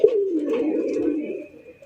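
Domestic pigeons at a pigeon market give a close, full coo that rolls on for over a second and then fades, with faint background murmur.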